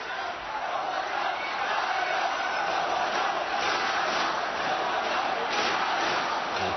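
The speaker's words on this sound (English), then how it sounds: "And the crowd getting behind Liu Guo Zheng" A large arena crowd at the 2005 World Table Tennis Championships semifinal between Liu Guo Zheng and Timo Boll roars and cheers in a steady, broad wash of noise, distant and fairly quiet throughout.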